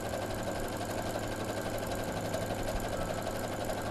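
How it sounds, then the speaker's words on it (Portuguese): A sewing machine stitches along strips of fabric in a steady, unbroken mechanical whir that holds at an even level, close by and with no talking. "vamos passar uma costura nessa parte que ficou aberta, fechando a extensão inteira"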